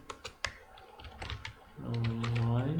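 Computer keyboard keys click in quick, close bursts while an Excel formula is typed, and a voice speaks over the later part.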